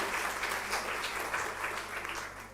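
Audience at a science lecture and workshop session applauds the panelists, a brief, fairly even burst of clapping at moderate volume.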